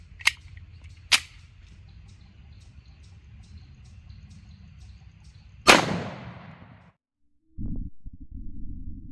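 A 1911 pistol fires a .450 SMC round into a gel block through a chronograph, producing a sharp single crack with a decaying tail. Softer clicks and knocks come before it, and a low rumble follows after a brief silence.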